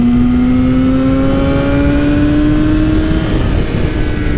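A Yamaha R6 sport motorcycle accelerating hard, its engine whine rising steadily in pitch under heavy wind roar for about four seconds, loud and close with no talking.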